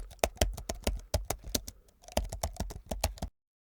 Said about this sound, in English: Let's type some content in it.